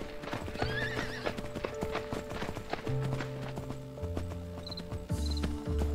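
Horses in the survival game Myth of Empires: continuous clip-clopping hooves with a whinny and neighing calls, set over a looping game music bed.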